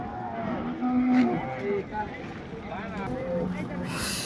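A cow at a busy cattle market lets out a low drawn-out moo, followed by shorter lowing calls, heard up close amid crowd chatter and people talking nearby.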